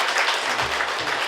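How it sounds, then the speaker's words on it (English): A dinner crowd at a hometown heroes awards event applauds, a dense, even wash of clapping throughout, fairly loud and without voices on top. "he deserves a round of applause as well"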